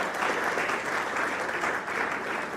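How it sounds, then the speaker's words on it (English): Sustained audience applause at an Obolo Nation achievers' award ceremony in Port Harcourt, Nigeria, a dense, steady wash of many clapping hands heard close and loud with no pauses. "Please clap for him."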